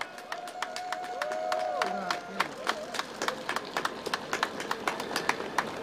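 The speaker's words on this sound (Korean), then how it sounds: "큰 박수 보내주시기 바랍니다." Crowd at a Korean election campaign rally clapping as candidates bow deeply, a steady patter of scattered handclaps with sharp individual claps standing out, under a sustained held tone and some voices in the background.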